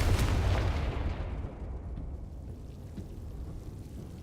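A Confringo blasting spell goes off in Hogwarts Legacy, a loud booming explosion right at the start, then a long rumbling decay that fades over several seconds.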